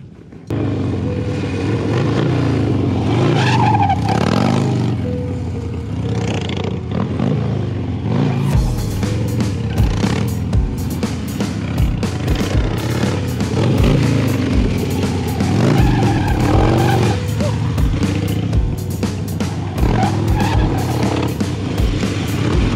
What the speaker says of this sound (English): Stationary front brake burnout. Trying to get the tire heated up